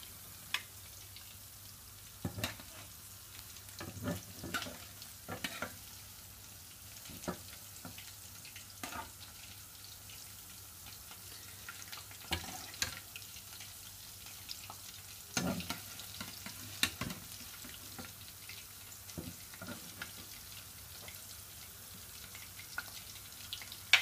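Onion pakodas sizzle softly in hot oil while being stirred and turned, a continuous faint frying hiss broken by scattered clicks and scrapes of a utensil.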